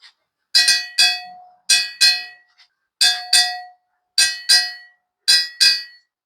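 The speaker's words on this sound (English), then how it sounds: "Then if you happen to hear this bell" Metal bell at the Odua Museum struck in five quick pairs of bright clanging strokes, each ringing briefly before the next pair, loud and close with no talk.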